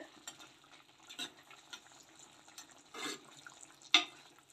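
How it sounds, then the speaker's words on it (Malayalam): A spoon works through half-cooked chicken in a pan at a quiet level, with scattered scrapes and light knocks over a faint sizzle and one sharper clink near the end. "നന്നായിട്ട് ഇതുപോലെ ഒന്ന് ഇളക്കി കൊടുത്തിട്ട് വീണ്ടും നമുക്ക് അടച്ച് വെച്ചൊന്ന് വേവിച്ചെടുക്കാം."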